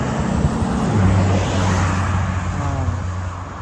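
Cars pass along a road in a small Pennsylvania town, a steady loud roadway rumble with one vehicle swelling close and then fading as it goes by.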